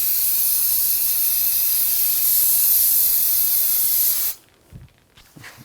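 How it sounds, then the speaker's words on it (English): Brake parts cleaner hisses from an aerosol can over the front brake hub of a 2004-2009 Audi A4 Quattro, a loud continuous spray lasting about four seconds that stops and leaves a few soft handling knocks. "Wash this off. Some brake parts cleaner."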